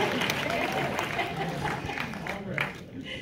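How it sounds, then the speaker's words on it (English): A studio audience claps and cheers during a cast conversation about the show Unprisoned, a dense round of clapping that tapers off over a few seconds with crowd voices mixed in. "Clap your hands out there"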